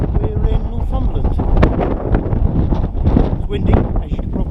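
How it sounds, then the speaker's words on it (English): Strong wind on the Cheviot in Northumberland buffets the microphone with loud, gusty rumbling throughout, and a voice speaks beneath the roar. "It's windy, as you can probably hear."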